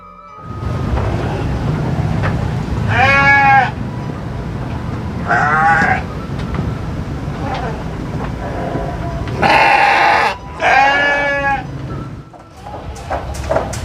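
Garut sheep bleat at a livestock market, several separate harmonic calls rising over a busy background murmur, with a pair of loud close bleats near the end.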